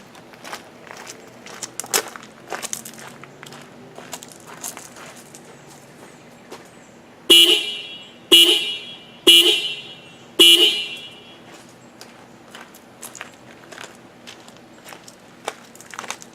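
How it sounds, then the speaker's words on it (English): The original car horn of a 2013 Toyota Highlander sounds four times in a row, each blast short, loud and evenly spaced about a second apart, heard from a few feet away after soft footsteps and handling noises. "let me walk to the horn, push the horn, and you'll get an indication of what it sounds like now"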